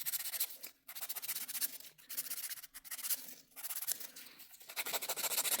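Nail file rubbed back and forth along the sides of a fingernail while shaping it into an oval, a steady close scratchy rasp in repeated strokes with brief pauses, no talking.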